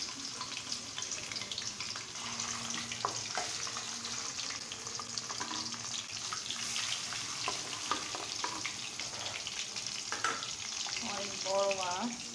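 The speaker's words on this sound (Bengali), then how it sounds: "প্রথমত মাথাটায় ভেজে নিচ্ছি" A large hilsa fish head fries in hot oil on a stove, giving a steady, dense sizzle throughout with occasional stirring clatter; a voice speaks briefly near the end.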